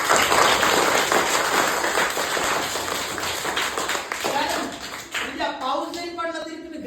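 Schoolchildren clap together for a gift of umbrellas, a dense, steady patter of many small hands up close that thins toward the end as an adult voice begins speaking over it.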